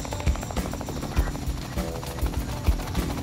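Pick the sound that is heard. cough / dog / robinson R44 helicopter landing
robinson R44 helicopter landing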